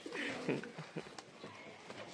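Pigeons coo softly in low, throaty murmurs near the start, with faint voices and scattered background noise afterward, in a Bangladeshi village.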